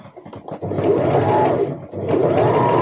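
A sewing machine runs in two long bursts, stitching around the top of a tote bag. The steady, loud whirring is broken by a short pause with a few light mechanical clicks before and between runs.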